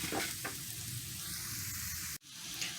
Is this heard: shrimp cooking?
yes